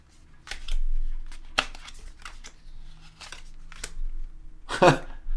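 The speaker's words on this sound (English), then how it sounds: "Trust the cards, even when you shuffle horribly like I just did." A deck of playing cards is shuffled at a tabletop gaming session: scattered soft clicks and flicks, then a brief, louder riffling burst near the end, all fairly quiet and close.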